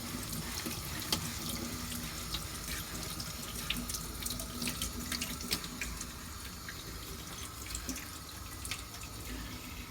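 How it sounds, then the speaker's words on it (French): A Berkey water filter element being rinsed under a running kitchen tap into a sink, wiped with a clean microfibre cloth; steady close water flow with small splashes and drips throughout, no voices. "Et je vais simplement le passer sous l'eau avec une loque microfibre toute propre"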